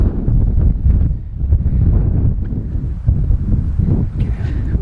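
Strong wind buffets the microphone at an abandoned railway station, a loud, continuous low rumble with gusty swells and no voices, close and filling the whole stretch.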